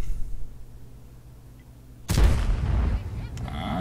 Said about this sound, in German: leider abgeprallt am Centurion AX